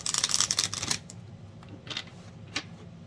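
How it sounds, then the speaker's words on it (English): Tarot cards being shuffled by hand, a dense riffling burst for about a second followed by a few softer card slides and taps, close and alone with no talking. "I'm just going to shuffle 2 more times."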